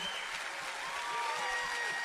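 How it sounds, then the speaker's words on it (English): Audience applause in a church welcoming Pastor Dean Odle to the stage, a steady wash of clapping at moderate level throughout. "give a good applause for the man of God, Pastor Dean Odle"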